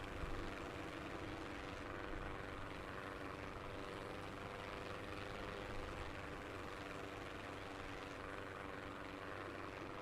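Airplane engine in a video game as the plane spins out of control, a steady, faint propeller drone holding for several seconds with no clear breaks.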